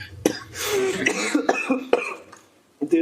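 Someone coughs a few times in short, rough bursts close by, with a throat-clearing quality and a brief pause before a final cough.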